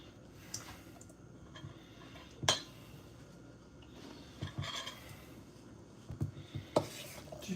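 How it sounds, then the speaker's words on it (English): Spoon stirring a stuffed baked potato filling of potato and bacon bits in a bowl, quiet scattered clinks and scrapes at an irregular pace, close and soft with no talk. "Give that a good stir."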